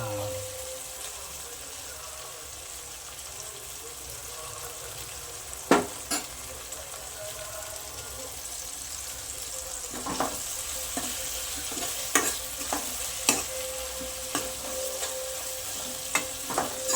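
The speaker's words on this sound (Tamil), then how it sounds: "வெங்காயம் தக்காளி நல்லா வதங்க தான் அதனோட ஃப்ளேவர் நல்லா அருமையாக இருக்கும்." Onions and tomatoes sizzle steadily in a pan for a Tamil tomato thokku, with scattered scraping stir strokes and clicks of the spatula up close and no talking.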